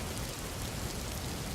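Steady rain falling, a dense, even hiss of drops with no breaks and no voices, moderately loud and constant throughout.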